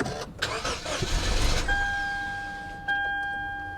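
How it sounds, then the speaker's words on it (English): A storm-damaged Lexus car with about 173,000 miles cranks and its engine catches in under two seconds. A steady electronic chime follows, then a quieter idle, all close and without talk. "It's all up to the car now. Is it going to run or is it not?"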